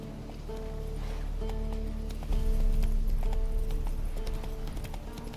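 Roach the horse's hooves clip-clop steadily and close by in The Witcher 3: Wild Hunt, a brisk rhythmic gait over a low ambient game soundtrack that swells halfway through.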